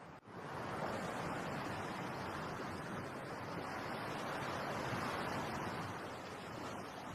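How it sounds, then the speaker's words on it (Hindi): Sea waves rolling onto the shore, a dense unbroken wash of surf that rises and eases softly, near and steady throughout, with no speech. "अपनी आंखें बंद कर समुंदर की लहरों को सुनकर मुझे शांति मिलती है।"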